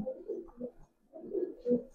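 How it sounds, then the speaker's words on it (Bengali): Two pigeons coo in soft, repeated phrases close by, low throaty calls rising and falling with a brief pause midway. "দুইটা কবুতর খালি দেখেন"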